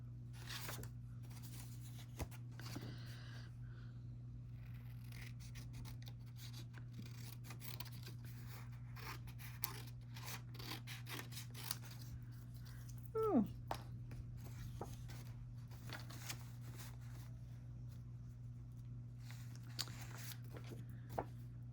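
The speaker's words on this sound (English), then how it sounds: "Let me trim down one more set." Scissors snip and trim small craft pieces in a long series of quiet, irregular cuts, close by over a steady low hum, with a brief squeak partway through.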